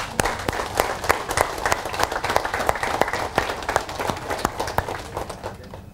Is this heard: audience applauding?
yes